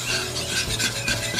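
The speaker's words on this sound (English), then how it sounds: "So use a whisk, it helps break up the clumps a little bit faster." A whisk rasps steadily through sifted flour cooking in a pan for creamy salmon pasta, breaking up clumps with a continuous, close scratchy rubbing and no voices.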